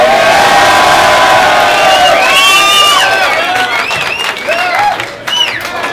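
A crowd at a battle event cheers and claps loudly, with whoops and shouts rising over the applause throughout.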